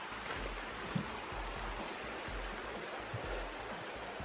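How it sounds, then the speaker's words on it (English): A large creek flowing at a hiking trail crossing between Springer Mountain and Cooper Gap, a faint, steady broadband rush of water heard alone at a distance. "Nice large creek."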